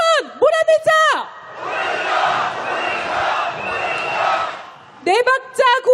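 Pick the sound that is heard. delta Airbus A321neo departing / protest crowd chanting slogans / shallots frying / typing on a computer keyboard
protest crowd chanting slogans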